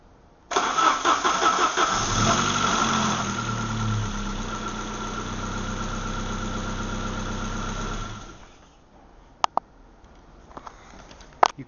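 Car ignition switched on with the fuel pump whirring steadily, preceded by a brief crank and catch of the engine; a loud, continuous hum runs for about seven seconds, then fades into quiet with a few sharp clicks.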